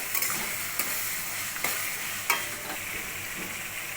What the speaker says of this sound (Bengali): আর দেবো অল্প সোয়া সস, দিয়ে আবার এটাকে সুন্দর করে কষাতে থাকি।